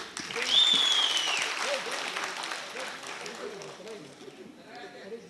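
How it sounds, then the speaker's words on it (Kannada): A crowd at a village elders' talent festival claps in dense, sustained applause that gradually fades, with a whistle cutting through early and voices murmuring underneath. "ಎಲ್ಲರೂ ಒಂದು ಜೋರಾದ ಚಪ್ಪಾಳೆಯನ್ನು ಕೊಡಿ"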